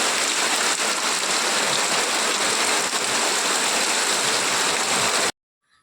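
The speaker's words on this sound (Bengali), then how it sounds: "তারপরে চলে এলো বৃষ্টি" Steady heavy rain pours down outdoors at a rural home with cattle left out in it, a loud dense hiss that runs unbroken before cutting off abruptly near the end.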